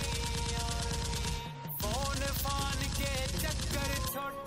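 Rapid, dense gunfire from a short army film, heavy bursts with a brief break midway, loud and continuous with tonal film sound mixed in.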